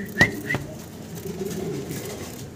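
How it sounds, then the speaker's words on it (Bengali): A pair of stick tumbler pigeons gives two sharp, brief calls near the start, then soft, low cooing continues close by and fairly quietly with no talking. "কি কবুতর দেখাইতেছি ভাই আমরা? স্টিক টামলার।"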